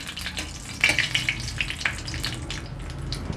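Dry red chillies, panch phoron and a bay leaf sizzle in hot oil, a steady frying hiss scattered with sharp crackles and pops of spices close by.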